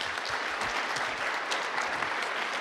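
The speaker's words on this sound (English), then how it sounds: "big round of applause for Spencer" Audience applause at a 1 Million Cups Kansas City startup pitch event, a steady wash of many hands clapping that fills the room at moderate level without talk.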